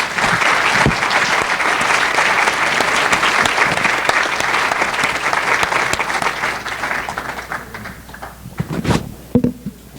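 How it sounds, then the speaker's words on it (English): An audience at a speakers forum gives a sustained round of applause that stays loud for about seven seconds, then thins out and fades, leaving a few scattered claps and thumps near the end. "let's give our speakers a nice round of applause again"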